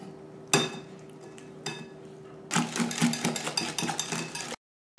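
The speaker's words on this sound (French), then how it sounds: "il ne vous reste plus qu'à bien mélanger tous les ingrédients ensemble" Cake ingredients are mixed by hand in a bowl for small harcha-style cakes, giving a couple of isolated clinks followed by a dense burst of rapid scraping and clattering before everything cuts to silence.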